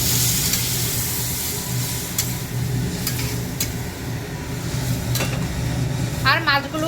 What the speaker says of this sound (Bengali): এখন জলটা দিয়ে দেবো।